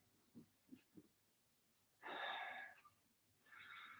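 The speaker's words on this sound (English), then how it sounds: "Couple of nice deep breaths." Deep breaths during a yoga session, heard as a few soft short breaths followed by two longer airy exhales, close and quiet, with no talking.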